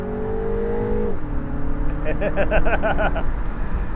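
A 2025 MINI Cooper convertible under hard acceleration, its engine note climbing through the revs before a gear change drops the pitch, then pulling again with a gritty, buzzing intake sound, loud and close from inside the car.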